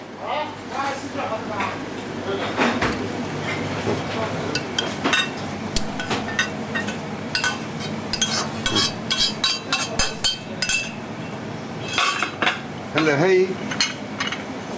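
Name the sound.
meat poured into sauce in a pot, cookware clinking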